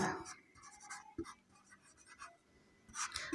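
Pen scratching on paper while math calculations are worked out by hand, quiet bursts of strokes with short pauses and a few taps, a voice faintly present underneath.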